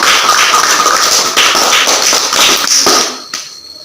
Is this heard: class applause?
yes